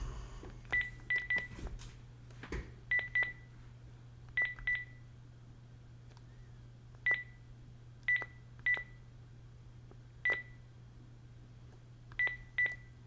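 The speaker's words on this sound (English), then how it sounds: "So please bear with me while I dialed the telephone." Touch-tone beeps from dialing a telephone ring out in short clusters of one to three tones, spaced irregularly over a steady low hum, clear and close with no talking.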